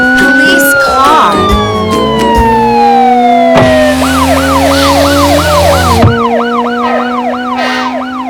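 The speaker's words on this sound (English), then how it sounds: "Police car." A police car siren plays loud and up close, first a long steady wail and then a fast repeating yelp pattern, layered over other vehicle horns and tones.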